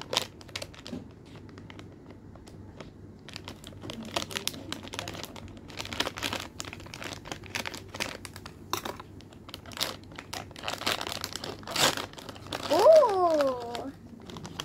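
Toy box packaging is opened by hand, with scattered crinkles, rustles and light taps coming in uneven bursts close by, and a voice briefly audible near the end.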